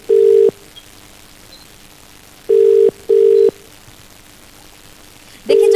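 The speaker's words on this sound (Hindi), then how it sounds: "एक आखिरी बार फोन लगाया जाए" Four steady electronic tones, each about half a second long, sound in an irregular rhythm over quiet background hiss, like a phone's ringback signal.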